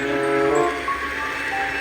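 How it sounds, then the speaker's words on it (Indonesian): Argo Wilis passenger train rolling downhill, a loud, sustained horn-like tone over rumbling rail noise that gradually fades, heard close with no talking. "kita lihat kereta api Argo Wilis akan berjalan menurun"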